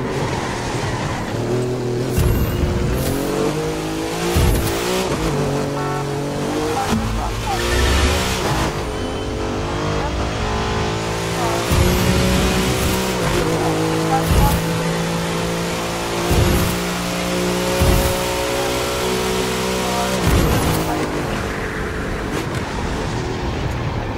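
A fast car driving in the video game The Crew 2, its engine a loud, steady roar that surges and revs through gear changes for the whole stretch, with no talking.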